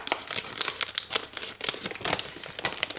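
Plastic cereal packaging crinkles and crackles as its top is cut open, a quiet cluster of rustling bursts in a home kitchen with no talking.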